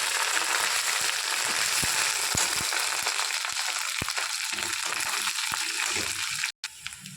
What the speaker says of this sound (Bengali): দুটো তেজপাতা দুটো শুকনো লঙ্কা দিয়ে ভালো করে ভেজে নেবো